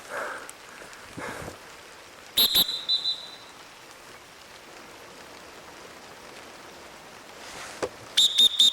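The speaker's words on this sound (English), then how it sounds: "You hear that whistle?" Two short bursts of a shrill whistle, one early and one near the end, over a soft patter of rain and night insects.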